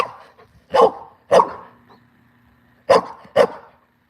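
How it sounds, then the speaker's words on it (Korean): A pet dog barks indoors at home in two pairs of sharp, loud, close barks, with a pause of over a second between the pairs and a faint whine between the first two. "왜 짖는데 왜 짖는데"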